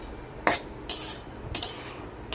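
Grated coconut dry-frying in a pan while a spoon stirs it, producing a few sharp scraping clinks at irregular intervals over a faint background, close by, with no voices.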